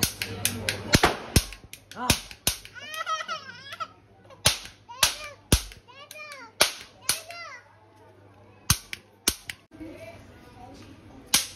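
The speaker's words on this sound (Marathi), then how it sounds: "फटाके एवढे उडवले" Rapid sharp firecracker pops burst in irregular clusters during Diwali, many loud cracks close together, with children's voices and chatter between them.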